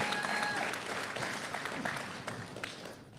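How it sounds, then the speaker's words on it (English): An audience at a roast event claps in a brisk round of applause, fairly faint and distant, with a crowd murmur underneath and the clapping tapering off toward the end. "Just a round of applause"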